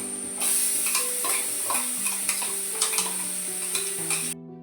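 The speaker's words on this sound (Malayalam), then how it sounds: "ഇനി നമുക്ക് ഇതിലേക്ക് ഇഞ്ചി വെളുത്തുള്ളി പേസ്റ്റ് നമ്മളോട് അടിച്ചു വെച്ചത് അതുപോലെ ഇടാം" Ginger garlic paste being stirred and sautéed in a pan for a chicken dish: rhythmic spatula scrapes over a steady sizzle, with soft tonal background notes and no talking.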